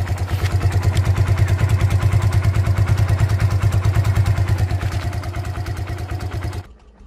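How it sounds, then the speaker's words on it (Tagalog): The untuned engine of a Barako 2 motorcycle fitted for a sidecar runs at idle with a rapid, even, clattering pulse, loud and close, before cutting off abruptly near the end. "Medyo malagitig pa lang yung andar nito mga boss kasi hindi pa ito na chuchun up."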